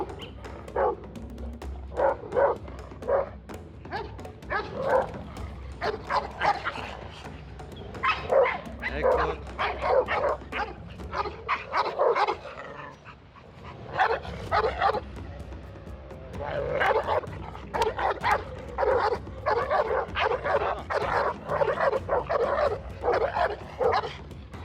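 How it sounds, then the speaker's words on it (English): A Kangal and a Cane Corso, both leashed, bark and yip furiously at each other in repeated close, loud bursts with brief pauses and whimpers between volleys. "These 2 were just dying to get to one another and fight it out, but thankfully, the 2 hostile dogs were leashed"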